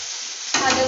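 Green chilies fry in a pan, a brief steady hiss of oil that swells louder near the end.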